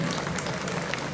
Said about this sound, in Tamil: உங்கள் பலத்த கரகோஷமான கொஞ்சம் நல்ல கைதட்டலை கொடுக்கலாம்.